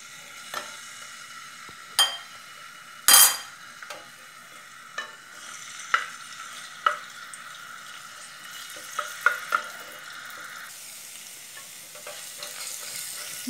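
Garlic sizzles steadily in hot oil in a pan while a utensil scrapes and taps against it several times, with one sharp hiss near the start.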